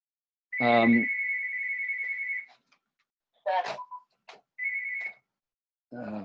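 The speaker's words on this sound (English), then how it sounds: "Sorry about that phone." Telephone ringtone going off during a talk, loud electronic warbling tones that repeat in short bursts with silent gaps between them, heard alone without speech.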